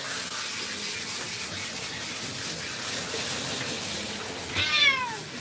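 A Persian cat meows in a short rising call during a bath, heard near the end over steady running tap water that fills the rest of the clip.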